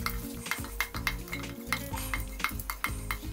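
Cumin and spices browning in oil in a frying pan for onion kachori, with a steady sizzle and rhythmic scraping strokes of a spoon against the pan roughly every third of a second, close and clear.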